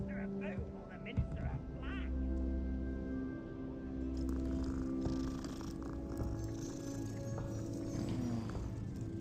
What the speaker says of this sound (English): Cute cats.